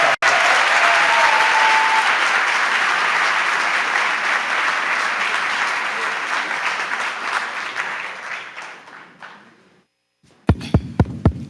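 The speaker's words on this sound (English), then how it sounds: "please give Imani and Austin a big round of applause" Loud, dense audience applause at a 25th anniversary event greets two interview guests, starting abruptly and slowly thinning and fading before a brief silence and a few thumping mic-check knocks.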